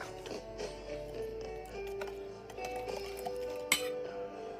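A utensil clinks and scrapes against a bowl while stirring a mashed pumpkin and powdered milk mixture, making soft, continuous metallic tinkling at low volume with one sharper knock near the end.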